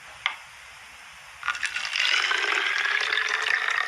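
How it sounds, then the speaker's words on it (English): Water pours from a beaker into a bottle, beginning with a faint clink and a short trickle, then building into a steady splashing gush that fills the bottle, close and clear. "Now I'm going to transfer the water from this beaker into this bottle here"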